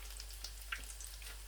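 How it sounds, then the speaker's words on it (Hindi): Potato tikkis frying in hot oil, a steady close sizzle with a few small pops, heard alone without talk. "मैं तमाम टिक्कियों को फ्राई करूँगा"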